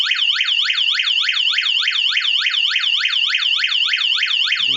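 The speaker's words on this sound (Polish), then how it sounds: "syrena dostaje informacje, wyje" A Tuya Smart SR5 home alarm siren wails electronically in rapid, continuous up-and-down sweeps, loud and steady, repeating without pause.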